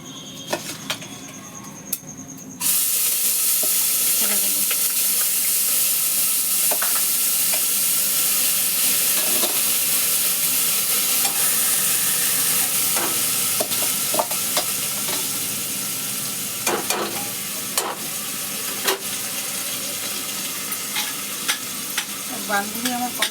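Dried red chillies and panch phoron crackle in hot oil for khichuri, a sudden loud sizzle that stays steady and close, with scattered pops and the scrape of stirring running through it and no voices.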